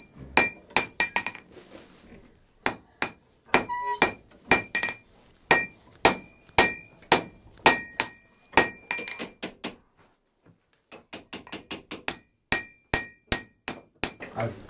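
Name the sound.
blacksmith chiseling barbs into high carbon steel bit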